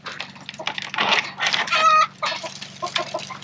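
Pastured chickens cluck and squawk close by on a frozen North Texas morning, with several overlapping calls rising and falling and one sharp, loud call near the middle.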